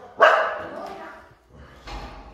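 A dog barks in a large covered service area of a house, one sharp bark and then a softer second one a moment later, close by.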